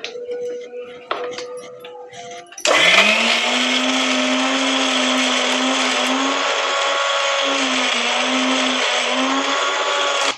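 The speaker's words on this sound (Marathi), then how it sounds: "आता आपल्याला हे बारीक करून घ्यायचे." An electric kitchen mixer grinds ginger, garlic cloves, salt and lemon juice into a chutney, starting abruptly with a loud steady whirring drone whose pitch wavers slightly as the blades work.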